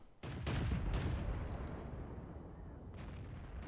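A LeFH 18B2 artillery gun firing in World of Tanks: a sudden heavy boom followed by a long rolling rumble and crackling echoes, alone with no talk.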